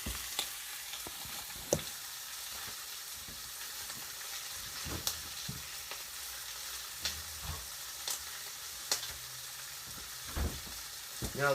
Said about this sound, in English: while that bacon is sizzling up